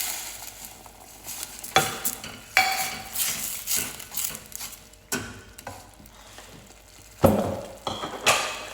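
Tomatoes cut into large chunks sizzle in a hot pan for matar pulao, with repeated bursts of stirring and utensil scrapes against the metal over a steady frying hiss.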